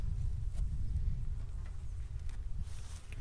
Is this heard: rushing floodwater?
no